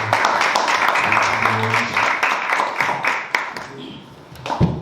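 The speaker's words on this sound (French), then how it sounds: "Est-ce qu'on peut encourager par nos applaudissements?" A church congregation applauds during a Sunday worship service, a dense burst of clapping from many hands that fades toward the end, with voices mixed in.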